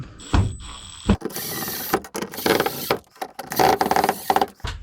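Fasteners being tightened by hand on a bathroom vanity light fixture, a close, loud run of ratcheting mechanical clicks and scraping bursts in quick irregular spurts with brief pauses between.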